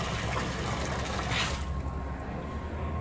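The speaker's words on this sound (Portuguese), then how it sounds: "escutei um barulho de água. Água sendo colocada num recipiente." Water pours steadily into a container in a workshop, a continuous broadband rush and trickle that shifts partway through as the pouring settles, heard close and alone with no talking.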